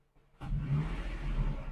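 A Nissan Xterra engine idles at operating temperature, starting abruptly after a brief quiet moment and then holding a close, steady low hum with no talk.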